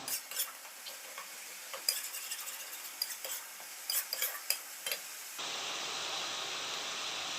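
Spices sautéing in ghee in a pan before spinach goes in, with repeated spoon scrapes and clinks over a soft sizzle, the clatter stopping near the end to leave a steady hiss.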